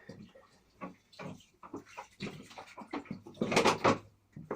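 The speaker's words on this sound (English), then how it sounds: "So I'm just watering what's here." Water poured onto garden plants during outdoor winter preparation, heard as a few soft splashing bursts that build into a louder, steadier gush near the end.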